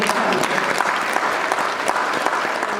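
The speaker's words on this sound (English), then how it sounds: "So give yourselves a round of applause." Audience at a gala clapping loudly and continuously, a dense wash of many hands filling the room from start to finish.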